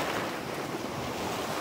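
Ocean surf for an audio drama rushes and churns steadily at close range, a dense wash of breaking water and wind with no voices.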